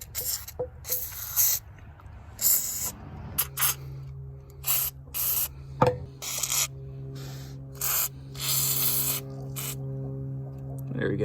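Lubricant is sprayed onto a Ford Expedition/F150 power running board mechanism in repeated short aerosol bursts, each a sharp, close hiss, separated by pauses over a low steady hum.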